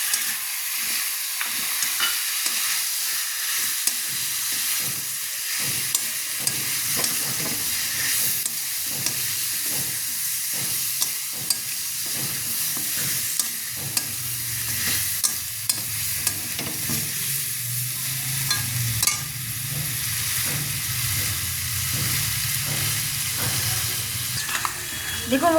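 Spiced chicken frying on a low flame sizzles with a steady hiss, while a spoon scrapes and stirs in the pan in repeated strokes. The frying goes on continuously, close up, with no talking.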